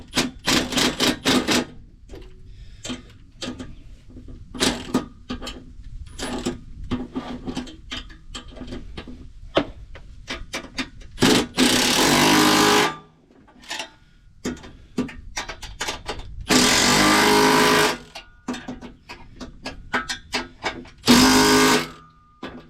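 Repeated metallic clatter and rapid ratcheting while a clamp is tightened onto the new exhaust of a 1979 GMC Vandura van, with short bursts of busy tool noise broken by a few longer, louder stretches.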